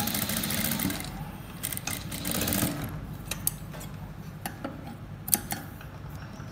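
A sewing machine stitches frock fabric for a box-pleat midi in a close, steady run. It slows and stops halfway, and scattered clicks and taps follow without talk.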